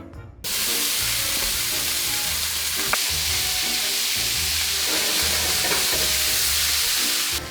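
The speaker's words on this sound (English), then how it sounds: "Then we're going to add our bacon and render down our lardons." Bacon lardons hit a hot pan and render with a sudden, loud, steady sizzle that holds constant, with a faint clink or two of utensils.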